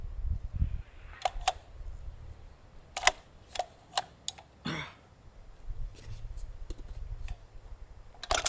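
A CheyTac M200 Intervention rifle bolt is worked and jams: a string of sharp metallic clicks and clacks, spaced irregularly and close, with soft handling noise between them.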